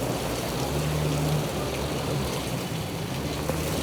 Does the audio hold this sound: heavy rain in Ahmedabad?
yes